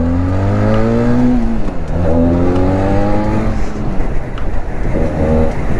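A Benelli 502C motorcycle engine revs loudly nearby, its pitch climbing and dropping in several sweeping surges.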